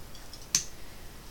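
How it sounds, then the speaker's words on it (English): A hot glue gun's lock clicks once as it draws back against its spring, a single sharp close click amid quiet room noise. "That clicking sound is the lock on the hot glue gun drawing back for the spring"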